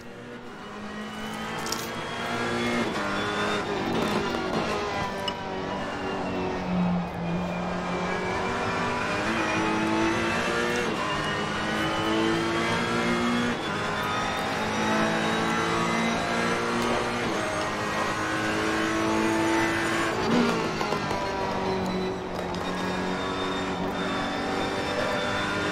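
Race cars in Assetto Corsa Competizione lapping Brands Hatch, a loud sustained engine whine rising and falling through gear changes and revs, steady and close with no talk.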